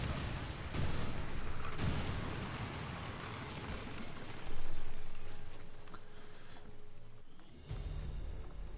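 Detonation explosions in the video game XCOM War of the Chosen, several heavy booms and crackling blasts spread across a rumbling, noisy background, with a strong burst near the middle.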